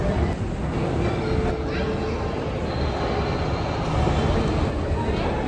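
Inside busy Howrah station beside the 13465 Howrah–Malda Intercity Express, a steady rumble of rail noise and crowd hubbub fills the platform.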